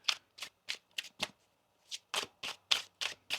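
Tarot cards are shuffled by hand in a quick series of crisp riffling bursts, five, then a short pause, then six more, close and fairly quiet, with no talking.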